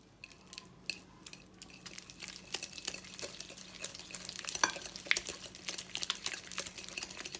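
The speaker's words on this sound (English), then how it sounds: "Now it's time to start whisking our butter." Butter being whisked in a bowl for butter cookies, a steady run of light scraping, clicking strokes that keep up throughout, close and moderately loud, with no voices.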